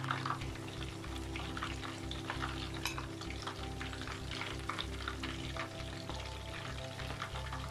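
Pineapple fritters frying in hot oil, a steady close crackle and sizzle with scattered pops and bubbling throughout, no voices.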